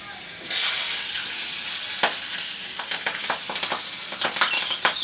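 Green chillies drop into very hot oil already tempered with black cumin for taro-leaf greens, setting off a sudden loud sizzle that settles into a steady close hiss dotted with sharp pops and crackles.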